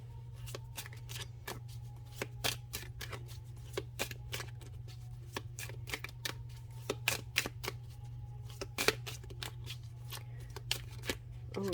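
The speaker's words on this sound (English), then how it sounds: "So I'm going to shuffle another one of these" Reading cards are shuffled by hand in a rapid, irregular patter of crisp riffling snaps over a steady low hum, quiet and close.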